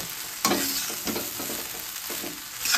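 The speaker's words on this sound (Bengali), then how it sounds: "ভাতের সঙ্গে একেবারে মশলাটা অ্যাড করে দেবো, করে দিয়ে ভালো করে এটাকে নাড়িয়ে" A spoon stirs rice with spice masala in a hot pan, quiet scraping strokes repeating every half second or so over a soft frying sizzle.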